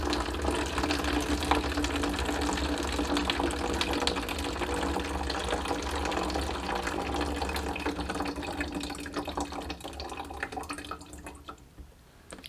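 Water runs out of a hydroponic basil system in a steady splashing, trickling stream that continues without a break and then tapers off at the very end, with no voices.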